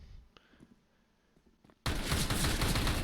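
Gunfire in Counter-Strike: Global Offensive, with quiet scattered shots and footsteps for almost two seconds before a loud, sustained burst of rapid weapon fire takes over.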